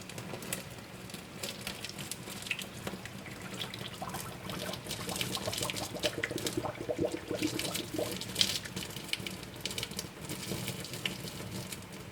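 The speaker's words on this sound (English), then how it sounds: "Now I'm just going to run some cold water over it to stop the cooking process." Cold tap water runs steadily over cooked boba pearls drained in a kitchen sink while making vegan boba matcha milk tea, a continuous splashing trickle at moderate volume with no talking.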